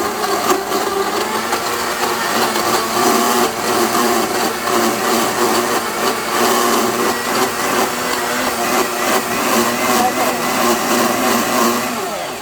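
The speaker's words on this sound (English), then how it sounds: "we are gonna start the blender" Blender whirring steadily while pureeing broccoli cheddar soup with the lid on, a dense, loud, continuous grinding hum that holds level throughout, close by.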